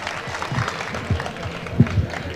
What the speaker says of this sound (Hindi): पुरज़ोर तालियों में उनका इस्तकबाल करें मुफ्ती सालिक मसूद मिल्ली साहब का